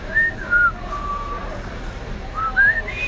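A boy whistles a tune, clear high melodic notes rising and sliding in short phrases over a noisy background, with a pause in the middle before the melody resumes.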